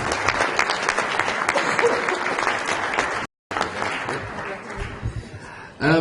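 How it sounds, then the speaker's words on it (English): Sustained applause from a crowd at a family planning conference in Nigeria, steady and loud, briefly cutting out before resuming and tapering off at the end. "Another round of applause for Professor Una"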